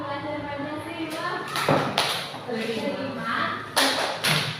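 A group of teachers performs the Pancasila student profile clap chant, with scattered sharp claps and thumps breaking through chanting voices in an uneven rhythm.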